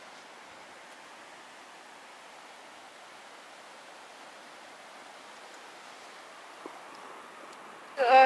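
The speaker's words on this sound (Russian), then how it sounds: "волна идет" A sea wave washing onto a beach at Mar del Plata, a faint, steady hiss of surf and foam that swells suddenly into a louder close rush at the very end.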